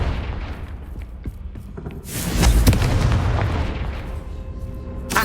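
A Confringo blasting spell explodes in Hogwarts Legacy with a heavy, close boom that rolls into a long rumbling tail, after a stretch of quieter game noise.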